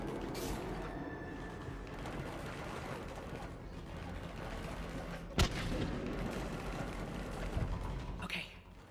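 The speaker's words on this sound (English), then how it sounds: "I hear gunfire." Gunfire and explosions in the video game Mass Effect Legendary Edition, a dense continuous battle din of shots and rumbling blasts with one sharp loud crack midway, heard from a distance.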